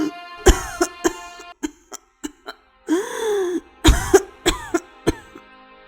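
A woman in a cartoon coughs badly in a string of harsh, close bursts and throat-clearing hacks, some long and strained, with short gaps between fits.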